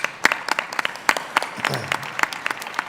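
Audience at a conference plenary applauds, a steady patter of many hands clapping at moderate loudness with faint crowd murmur underneath.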